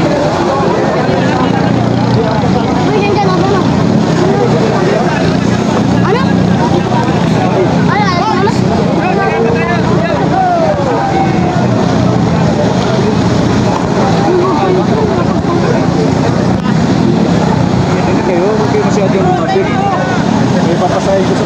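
Racing boat engines roar on the water at a boat race in Pinamalayan, a loud continuous engine drone with rough, sputtering motors, under crowd noise and voices throughout.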